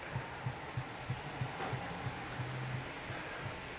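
A baby wipe is rubbed straight up and down along the edge of a MacBook Pro screen to strip the anti-glare coating: faint, close, evenly spaced swishing strokes repeat about three times a second, with no speech.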